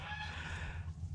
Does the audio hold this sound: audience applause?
no